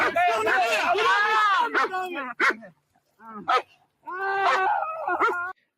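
A police K9 dog during an arrest gives loud whimpering yelps and barks mixed with frantic shouting voices, in close, urgent bursts separated by short pauses.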